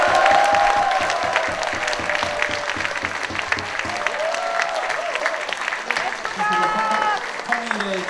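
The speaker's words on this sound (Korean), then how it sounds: "우리 평통사의 멋진 청소년들에게 다시 한번 큰 박수 부탁드립니다." Big, sustained applause with some cheering from a crowd honoring young people at a peace gathering, loud at first and gradually thinning, with voices emerging near the end.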